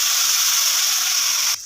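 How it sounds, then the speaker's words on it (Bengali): Ground spice paste hits hot oil with a loud, bright, continuous hiss that holds steady, then drops off abruptly. "এবার আমি এই মশলাটা যেটা মিক্সিতে করলাম, এই মশলাটা ঢেলে দেবো।"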